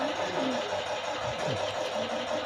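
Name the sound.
foam shredder machine powered by a multifunction drill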